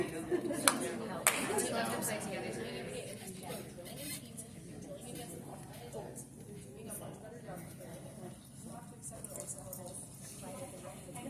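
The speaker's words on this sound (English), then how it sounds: "Oh, sorry. I clapped." Hands clap a few times, sharp and fairly close, at a convention panel for the Star Wars Unlimited card game. Background chatter and talk from the room continue around the claps.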